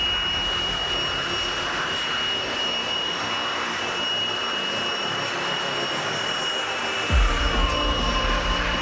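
An air blower drying a freshly washed bicycle at a bike wash, a steady loud whooshing roar with a high tonal whine, continuing without break and shifting slightly near the end.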